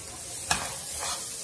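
Garlic, crushed ginger and green chilies sizzle in a pan while being stirred for a country-style duck roast, with a soft steady hiss and a brief scrape of the spoon partway through.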